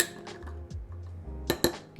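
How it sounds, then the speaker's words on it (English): A spoon stirs a cold brew mocktail in a glass, giving a few soft scrapes followed by two bright clinks against the glass. "Give it a nice little stir."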